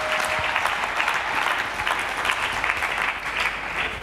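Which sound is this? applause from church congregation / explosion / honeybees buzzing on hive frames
applause from church congregation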